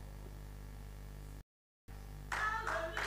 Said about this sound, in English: Give her a good hand of applause